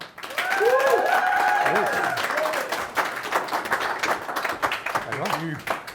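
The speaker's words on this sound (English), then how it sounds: "how about a big warm round of applause for our final guest comedian, ladies and gentlemen, Garry Johal" A comedy show audience applauds the final guest comedian as he takes the stage, heard as a dense wash of clapping and crowd noise with a voice speaking over it, easing into scattered claps.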